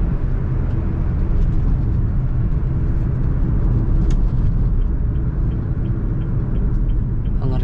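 Honda Brio engine braking as the driver drops from fourth straight to second gear on a narrow road, a steady low road-and-engine rumble with faint clicks, no voices.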